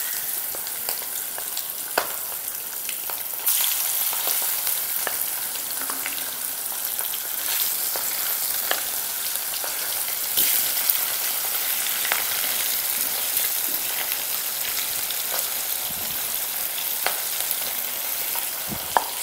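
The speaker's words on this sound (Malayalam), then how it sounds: "സാധാരണ പരിപാടിയാണെങ്കിൽ മീൻ പൊരിക്കുക ഇത്രയും മതിയല്ലോ" Sardines fry in hot oil with a loud, dense, continuous sizzle and spatter, broken by occasional sharp pops and a few stirring knocks, with nobody talking over it.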